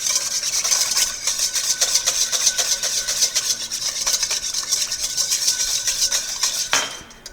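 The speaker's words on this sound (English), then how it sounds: "You want to whisk to emulsify" A whisk beats a vinaigrette to emulsify it, scraping fast and rhythmically against the bowl with bright metallic chatter that keeps going steadily, then halts abruptly near the end.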